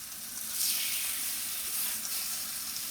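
Chicken breast pan searing in a skillet gives a steady, close, hissing sizzle with a brief louder flare, no talking over it.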